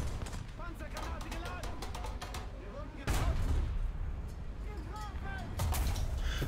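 Tank cannon fire in War Thunder with a Tiger H1 in play, heavy booming shots landing over a dense rumbling battle mix, with a loud blast near the middle and more gunfire continuing to the end.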